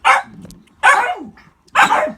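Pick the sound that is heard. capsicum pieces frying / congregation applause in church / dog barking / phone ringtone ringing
dog barking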